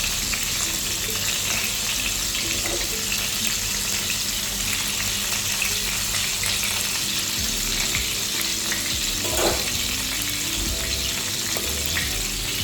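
Eggplant slices fry in hot oil with a constant dense sizzle and crackle that stays close and even throughout, joined by a few faint clatters.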